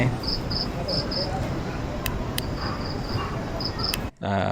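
Dense, steady cricket chirping after rain outside a restaurant in Bandar Penawar, Desaru, Malaysia, a loud continuous high-pitched trill with repeated pulses, cutting out abruptly near the end.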